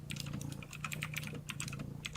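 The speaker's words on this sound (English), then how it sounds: "If you could hear me over the typing" Rapid, uneven keystrokes clatter on a computer keyboard close to the microphone, a continuous run of light clicks with no talk over them.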